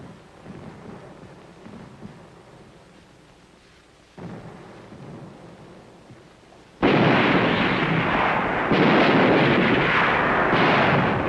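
US tanks fire as a makeshift heavy artillery battery in the Korean War, producing continuous deep, booming rumble that steps up abruptly into a loud, sustained roar of overlapping blasts.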